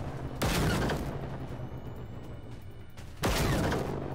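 Gunshots fired at the Reaper robot in Generation Zero: two heavy, loud blasts a few seconds apart, each with a ringing, rumbling tail, set against quieter mechanical background noise.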